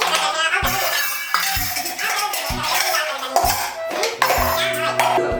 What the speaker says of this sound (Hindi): इस तरह से बर्तन नहीं फेंकना चाहिए